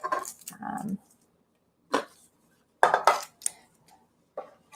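Dishes and bowls clink in a home kitchen while a bowl is pulled out during a tortilla soup cooking demo, a few short bright knocks and clatters spread out over several seconds with quiet gaps between them.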